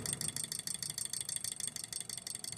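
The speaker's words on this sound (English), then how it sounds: "as long as the heat source is good, it'll continue turning at basically this controlled RPM." A Stirling engine fitted with an added valve runs steadily at a controlled speed, giving a faint, continuous, rhythmic mechanical rattle and whir.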